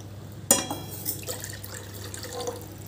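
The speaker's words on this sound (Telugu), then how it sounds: "4 కప్స్కి 2 కప్స్ వాటర్ పోస్తున్నా." Water is poured into a pot for homemade masala tea: a sharp splash starts the pour, then softer trickling and dripping follow over a low steady hum.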